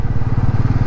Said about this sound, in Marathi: इंजिन गरम करूया बाईकचं